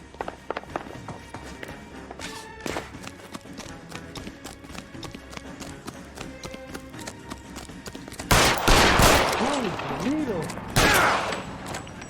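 Gunfire in L.A. Noire, a rapid run of sharp shots cracking over game noise, followed by two louder blasts near the end, with a voice briefly heard in the mix.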